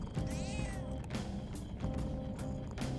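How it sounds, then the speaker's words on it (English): Cat meows ring out from a PlayStation controller's small speaker during Persona 5 Royal, a few short mewing calls over a dense, steady bed of game sound. "When I press the touchpad on the PlayStation controller, a cat meow comes out of it."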